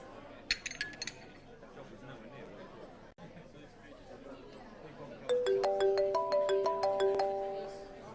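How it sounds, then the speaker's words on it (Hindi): A mobile phone rings with an incoming call, its repeating multi-tone melody loud and clear for the last few seconds, following quieter chatter and a light clink of dishes and cutlery at a meal. "अबीर का फोन है, मैं बात कर लेती हूँ।"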